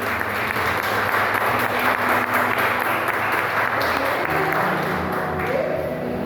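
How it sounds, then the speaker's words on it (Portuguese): A church congregation applauds steadily, a dense wash of clapping that holds for several seconds, with faint voices and a low musical hum underneath. "Você pode aplaudir a Deus por isso?"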